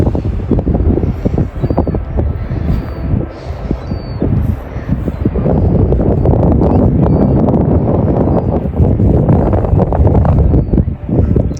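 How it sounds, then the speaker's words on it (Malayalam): Strong, steady seashore wind buffeting the microphone, a continuous loud roar with gusty low rumble throughout, likely mixed with nearby surf. "നല്ല കാറ്റുണ്ട്."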